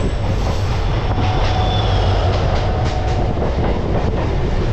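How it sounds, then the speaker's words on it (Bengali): A nearly empty local train running from Howrah to Digha gives a loud, steady rumble of wheels and carriage from inside, with faint rhythmic clickety-clack throughout and no speech. "আজকে ট্রেনে যাচ্ছি, একদম ফাঁকা ট্রেন"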